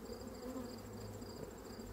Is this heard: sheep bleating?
no